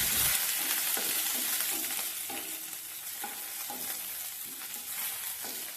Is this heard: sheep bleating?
no